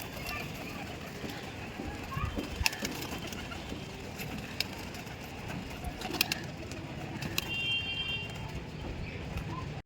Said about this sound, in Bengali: এই যে পায়রাগুলোকে সব উড়িয়ে দিয়েছি, উঠছে